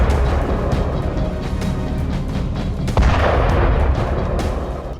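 Explosive charges blow up a museum in the war-torn city of Bakhmut, Ukraine, producing a loud, rough, sustained blast roar with a sharper burst midway.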